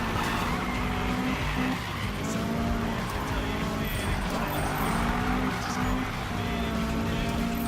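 Cars drifting in the Need for Speed 2015 racing video game, with a steady roar of engines and long continuous tire squeal held loud and constant throughout.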